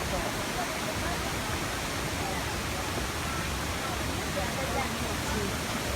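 Loud, steady rush of a waterfall in Sapa, Vietnam, in winter fills the scene, a constant broadband roar with no pauses.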